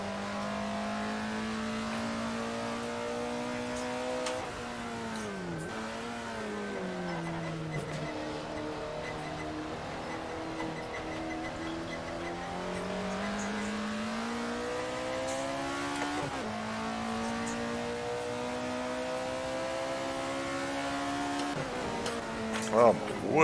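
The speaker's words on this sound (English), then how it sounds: "We're racing some classic Alphas around the Nürburgring." A classic Alfa Romeo races around the Nürburgring Nordschleife in a driving game, its engine droning steadily and climbing in pitch through the gears, dropping sharply on shifts and braking, loud and continuous throughout.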